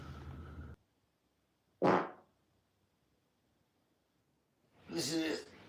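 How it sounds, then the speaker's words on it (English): Two short, loud bursts of flatulence, the first about two seconds in and the second longer and rougher near the end, separated by silence and preceded by a brief noisy sound at the start. "If I bend down, I might fart."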